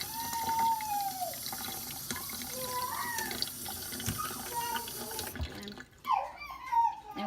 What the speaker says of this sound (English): Rinse the potatoes after I finish peeling them.